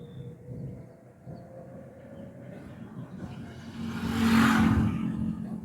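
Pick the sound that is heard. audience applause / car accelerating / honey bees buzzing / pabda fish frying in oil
car accelerating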